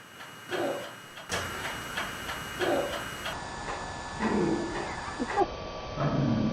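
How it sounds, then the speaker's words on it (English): A clock ticks steadily and quietly in a hushed room, faint regular beats over low background hiss with occasional soft shuffles. "I hate ticking clocks."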